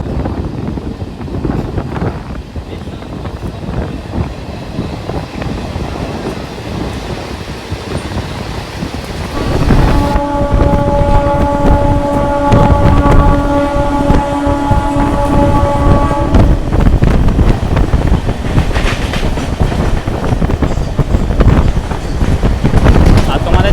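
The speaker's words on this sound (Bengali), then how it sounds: "ছেড়ে দিল আমাদের ট্রেনটি পাশকুড়া জংশন রেলওয়ে স্টেশন থেকে" A MEMU local train pulls out of Panskura Junction, a continuous rumble mixed with wind buffeting that grows louder partway through, with a sustained tonal whine or horn over the middle stretch.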